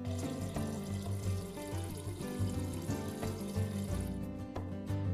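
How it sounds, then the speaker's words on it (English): A refrigerator water dispenser runs a steady stream of water into a measuring cup, a continuous close splashing and trickling sound that holds nearly unbroken for about five seconds with no talking. "Press and release the water dispenser paddle as needed to dispense water to the one cup fill line."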